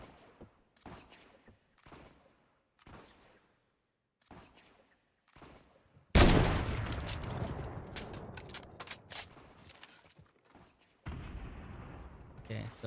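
Gunfire in a Fortnite match, a loud burst of rapid game shots after several seconds of quieter repeated thumps, then a second dense burst near the end; talk is mixed in.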